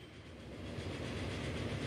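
A train rumbles along in Transport Fever 2, with a steady low roll and faint rhythmic wheel clatter that grows slightly louder, and no speech.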